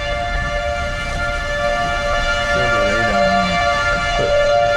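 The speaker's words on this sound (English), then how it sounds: "You can hear the tornado sirens." Tornado sirens wail across Ness City, Kansas, during a May 2008 storm, heard from a fleeing chase vehicle as a steady, sustained droning tone under road rumble, with a brief voice partway through.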